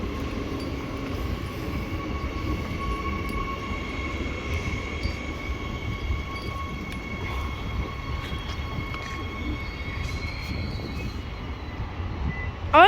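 A dirty, worn train at East Perth station, rumbling steadily nearby with a faint high whine from the wheels and a brief sharp squeal at the end, no voices.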